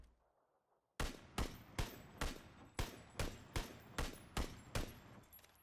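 Ten rapid gunshots from a scoped rifle in the video game PUBG ring out after a second of silence, sharp and evenly spaced, each with a short decaying tail, loud and alone.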